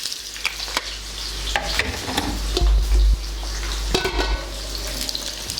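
Onions and carrot frying in a pan sizzle steadily while a utensil stirs and scrapes with intermittent clacks, close and fairly loud, with no voices.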